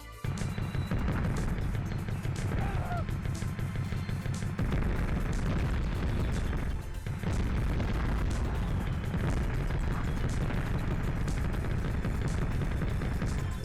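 Tank cannon fire and explosions from the PS1 game Mass Destruction form a dense, continuous rumble of booms and blasts, loud and steady throughout with a brief dip partway.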